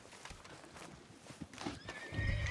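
A horse whinnies in the open-world Western game Red Dead Redemption 2 Online, its high neigh rising near the end over hoof clip-clop and a low rumble, with faint ambient noise throughout.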